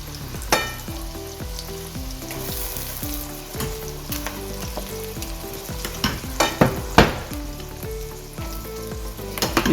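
Ground white masala fries in a pan, a dense close sizzle with sharp crackles and stirring clicks, over tonal background music.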